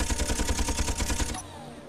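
Gatling guns on a ship in Space Engineers fire a fast, loud, rattling burst for over a second, then cut off into a low lingering hum.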